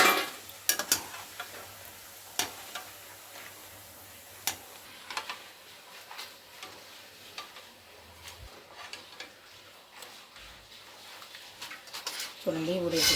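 Papads frying in hot oil with the gas switched off, a soft continuous sizzle broken by sharp crackles and clicks of utensils, fairly close, with intermittent speech over it.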